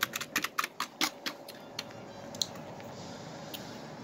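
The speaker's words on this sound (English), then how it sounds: "type it on the old keyboard there." Rapid keystrokes on an old computer keyboard, a quick burst of clicky taps close by that thins out into a few isolated presses over a steady low hum.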